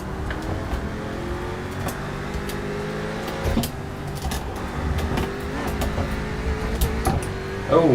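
Race car engine in a racing video game, a spec-series car with a touchy throttle, droning steadily with harmonic whine rising and falling as revs change, with brief louder bursts near the end.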